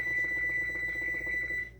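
A kitchen timer is set for 15 minutes while food steams on the stove, giving a steady rattling ring for nearly two seconds that cuts off abruptly, close and fairly loud with no talk.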